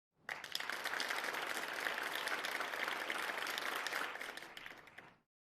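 Gilead school students applaud at a talk: a dense, steady burst of clapping from many hands that holds evenly for about five seconds before cutting off, with no talking.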